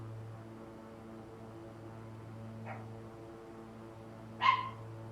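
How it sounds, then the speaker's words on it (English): A pet dog gives one faint yip and then a single louder bark indoors, over a steady low electrical hum. "My dog's gonna start barking."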